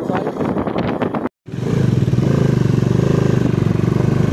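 A Himalayan motorcycle rides a winding winter mountain road in East Sikkim, its loud, steady engine thrumming close by after a brief cut to silence near the start.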